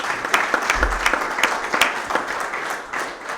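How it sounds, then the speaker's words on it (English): A crowd at a football touchdown club banquet gives a warm round of applause, dense steady clapping lasting a few seconds with a brief low thump near the start. "So give a warm round of applause,"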